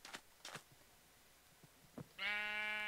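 Minecraft sheep bleat in the video game: a couple of short, faint bleats early on, then a louder, clear, drawn-out bleat near the end, with no speech.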